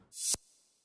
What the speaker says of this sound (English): There's one reverse hi-hat, which is like this